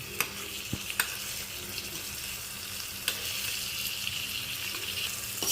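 Tomatoes sauté in a pan for ridge gourd kootu, a soft continuous sizzle close by, broken by a few light clicks and scrapes of stirring.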